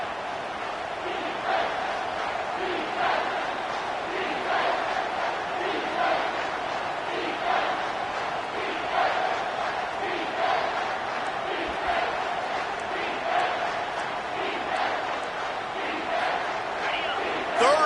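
A football stadium crowd roars loudly and steadily in support of the home defense, a dense sustained wall of voices. A commentator talks over it throughout.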